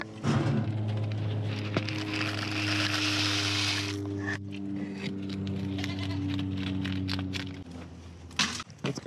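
Farm goats bleat loudly and steadily up close, long wavering cries overlapping one another, with a rustling, crackling background.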